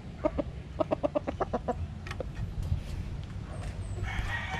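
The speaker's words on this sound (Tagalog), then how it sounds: "Manok-manok." A chicken clucks in a quick burst of short, sharp notes, followed by a few scattered clucks over faint background noise.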